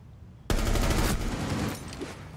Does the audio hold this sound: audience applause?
no